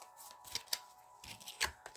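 Thick tarot cards are shuffled up close in quick soft bursts, their crisp riffling flutters and slaps coming in several separate flurries over a quiet background.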